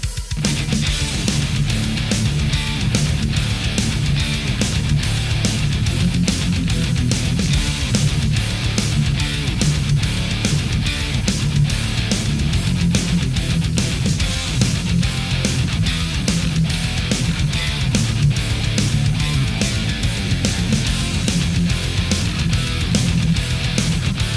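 Heavily distorted electric guitar plays a thick, chugging riff nonstop at high volume, with sharp rhythmic palm-muted hits throughout.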